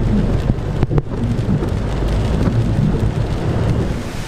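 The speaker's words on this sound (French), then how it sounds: "Ça n'arrête pas, c'est de la pluie en continu." Heavy, steady rain roars close by, with a low rumble of thunder rolling underneath the whole time.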